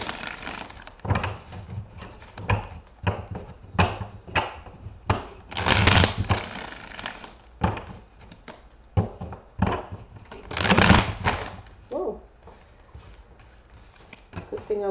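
Tarot cards shuffled in repeated bursts of riffling and tapping, close and moderately loud, with short pauses between bursts.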